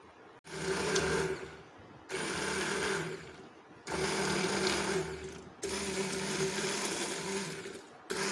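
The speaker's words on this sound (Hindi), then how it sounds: "और इसको ब्लेंड कर लेंगे हैंड ब्लेंडर की मदद से।" A hand blender whirs loudly, blending mint, green chilli, garlic paste, salt and yogurt into chutney, running in four steady bursts with short pauses between them.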